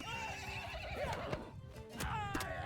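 A horse in the Bannerlord video game lets out a loud, wavering neigh with clip-clop hoofbeats and battle noise underneath, a second whinny following near the end.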